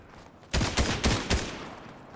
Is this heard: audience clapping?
no